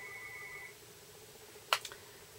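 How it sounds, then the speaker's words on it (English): A telephone rings faintly in a quiet room: one steady electronic tone lasting under a second, followed by a couple of brief sharp clicks. "She will let the phone ring about 10 times."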